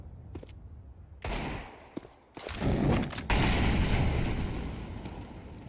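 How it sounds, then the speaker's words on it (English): An incendiary grenade thrown in a competitive tactical shooter match, heard as a loud burst of gunfire cracks followed by a booming blast and a sustained roaring fire rush. "tossing an incendiary into the apartments there"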